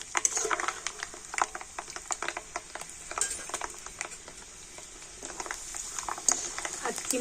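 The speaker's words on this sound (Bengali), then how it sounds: "চীনা বাদাম সব কটা আমি তেলের মধ্যে দিয়ে দিয়েছি আবার একটু নাড়াচাড়া করে নেবো" Peanuts frying in hot oil while being stirred, a bubbling crackle dotted with light clicks and scrapes at moderate volume, with no voices over it.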